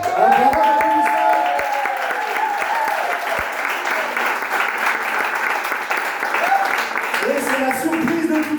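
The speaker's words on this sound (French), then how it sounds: "Un bravo d'applaudissements." A church congregation applauding a pastor, dense clapping that fills the room at close range, with voices and some tonal sounds running underneath throughout.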